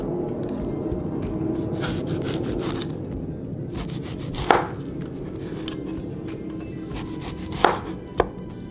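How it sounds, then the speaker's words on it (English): Steady knife chopping and scraping through a pear on a cutting board, a continuous close rustle with a few sharper, louder cuts near the end. "we're going to cut the pear"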